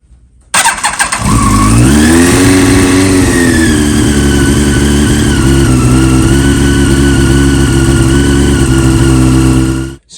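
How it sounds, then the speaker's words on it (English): A 1998–2001 Yamaha R1 motorcycle fires up after a brief starter crank, rises to a quick rev, then settles into a loud, steady idle close by until it is cut off. "now we will start the bike and you will see this drain"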